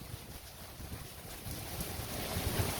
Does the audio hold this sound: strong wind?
yes